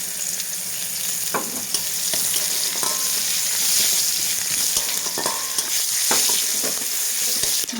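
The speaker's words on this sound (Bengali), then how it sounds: "আর দিয়ে দিচ্ছি যে আমি পেঁয়াজ কুচি।" Chopped onion fries in a pan of oil already holding five-spice tempering, a broken dried red chilli and a bay leaf, hissing in a steady sizzle with scattered crackles and scraping stirs, close and continuous.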